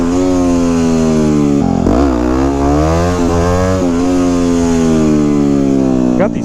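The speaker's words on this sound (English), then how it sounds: "I'm out here today practicing wheelies on my WR250X" A Yamaha WR250X motorcycle engine drones loud and close, its pitch rising and dipping through revs in first gear as the rider pulls wheelies, with a voice talking over it.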